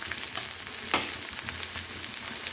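Chopped onion and capsicum fry in a hot pan over a medium flame, giving a steady close sizzle with one sharp scrape of a spatula near the middle, and no talking.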